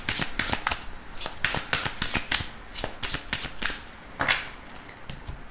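Lenormand cards are shuffled by hand for a tarot-style reading, giving rapid crisp riffling bursts in quick rhythmic runs, close and clear with no voices.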